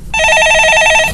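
A telephone rings for an incoming call, one loud continuous burst of rapid electronic trilling close to the microphone, with no one talking over it.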